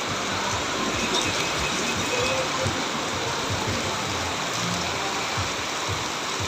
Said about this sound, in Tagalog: Ngayon tumodo gabi ang ulan.